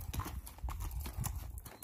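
A registered black and white tobiano gelding walks under a rider on the way to an obstacle course, its hooves clopping in a steady, close rhythm with no talk.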